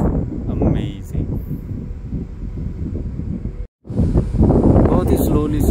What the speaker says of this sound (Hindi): ये बहुत ही ठंडी ठंडी हवा चल रही है